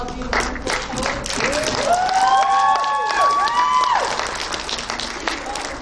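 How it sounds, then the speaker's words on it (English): Audience applause for student poets at a community poetry slam, steady clapping and some cheering from a crowd, sustained through the clip, with a voice or whistle-like tones rising above the mass of hands. "Let's give a round of applause for all of you wonderful poets."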